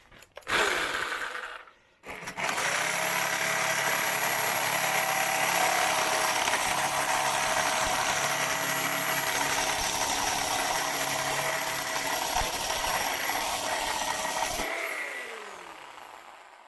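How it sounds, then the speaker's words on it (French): A reciprocating saw cuts through material, running steadily for about twelve seconds after a brief start, a loud, buzzing mechanical drone that then winds down and stops. "Normalement avec la scie sabre, ça devrait y aller tout seul."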